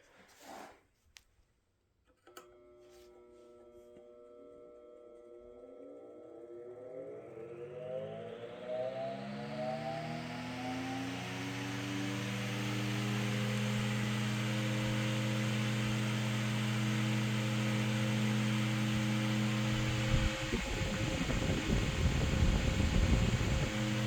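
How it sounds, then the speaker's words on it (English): A c. 1915 Century S3 skeletal electric fan clicks on, then its motor whine rises steadily in pitch like a siren over about fifteen seconds and settles into a loud, steady hum and whir. "Now I'll start it up here. These have a very cool starting sound."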